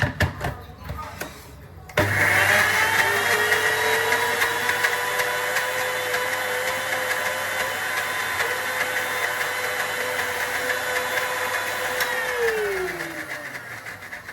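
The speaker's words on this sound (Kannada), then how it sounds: "ಮಿಕ್ಸಿಗೆ ಹಾಕಿ" A steady motorized whine starts abruptly after a couple of seconds and runs continuously, loud and close, then winds down near the end.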